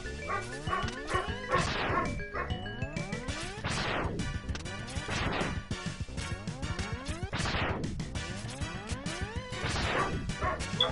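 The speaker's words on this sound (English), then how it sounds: "My dog is barking and shit." A dog barks repeatedly in the background, a run of sharp, loud yips and barks over busy, continuous video game music and sound effects.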